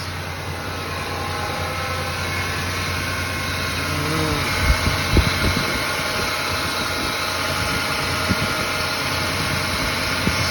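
A vehicle engine idles steadily right after a Z1 Offroad advanced induction system was fitted, a close, continuous low rumble with a few faint ticks and small bumps around the middle and near the end.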